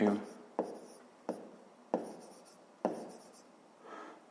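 Chalk or pen writes a number on a board during a fifth-grade math lesson, several short scratchy strokes with sharp taps in a loose rhythm, close and clear.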